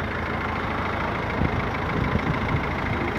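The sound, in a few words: Jaguar X-Type timing chain engine idling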